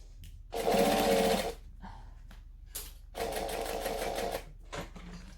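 Sewing machine back stitching while sewing a bag, two loud sustained bursts of motor whir separated by a brief pause and soft handling noise, close up.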